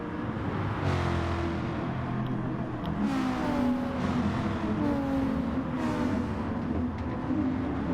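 Several GT race cars, including a Corvette, roar in a video-game race at the Spanish Grand Prix, with engines droning and shifting pitch steadily as cars run close together and pass, loud and continuous.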